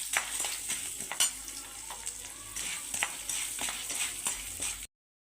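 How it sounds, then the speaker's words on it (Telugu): Sago pearls frying in ghee for sabudana rava barfi give a steady, close sizzle with frequent scraping stirs, then cut off abruptly at the end. "ఇప్పుడు ఇదే నెయ్యిలోకి మనము సగ్గు బియ్యాన్ని వేసుకుందాము వేసి దీన్ని కూడా ఫ్రై చేసుకుందాం"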